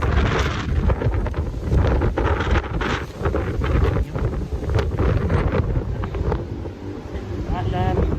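Strong wind buffets the microphone in a continuous heavy rumble outdoors, gusting throughout with faint sounds underneath.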